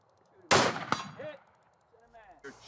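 A rifle fired at a shooting range in Austin, Texas, one sharp loud shot followed moments later by a metallic clang from the hit target, with a short faint ringing tail; brief voices murmur afterward.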